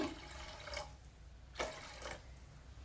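Water being poured into a pot while cooking black rice palm jaggery payasam, soft splashing bursts in short pours, faint and close.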